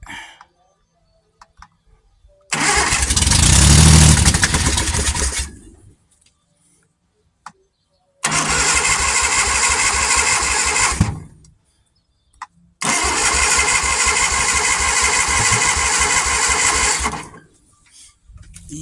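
A Triumph Vitesse 2-litre car engine being cranked by its starter, three long loud whirring bursts separated by silence, none catching into a running idle.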